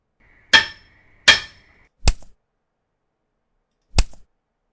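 A hammer sound effect plays as four separate sharp strikes, the first two ringing with a metallic tone and the last two dull, solid thuds, each distinct and isolated in silence.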